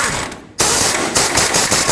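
A ratchet snugs a tie rod nut onto the steering knuckle of a Chevrolet Express van in quick, loud, close clicking bursts, with a short pause near the start.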